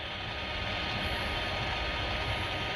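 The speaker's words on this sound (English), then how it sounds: "first train of the day." A train on the old B&O railroad line approaches from a distance, giving a steady low rumble and mechanical drone that holds evenly throughout, with no talk.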